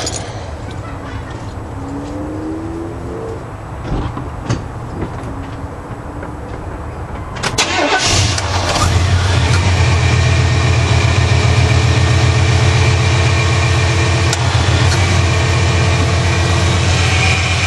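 A car engine is cranked after a header fix, giving a short rough turnover before it catches, then settles into a loud, steady, low idle that runs on.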